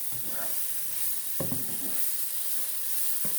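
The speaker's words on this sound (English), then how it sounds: "Let these cook for a little bit longer, then I'll come back and show you the caramelized onions." Onions fry in a pan over medium-high heat, giving a steady close sizzle with a few stirring scrapes and clinks layered over it, and no talk.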